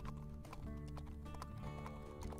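A horse clip-clops at a steady trot in a cowboy roleplay scene, the hoofbeats close and even under a sustained tonal backdrop, with a possible brief whinny.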